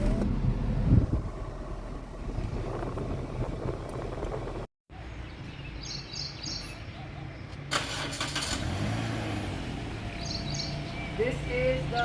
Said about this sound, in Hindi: This is the starting sound of the car. बहुत ही स्मूथली स्टार्ट होती है गाड़ी